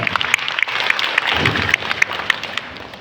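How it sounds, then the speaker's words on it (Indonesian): Applause at the opening ceremony of an education programme in Padang Pariaman, made of loud, dense clapping with sharp individual claps standing out and a short swell of crowd noise in the middle. "Tepuk tangan."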